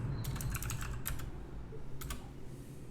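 Computer keyboard clacking, close and fairly quiet, as several quick bursts of keystrokes sound over about three seconds with short pauses between them.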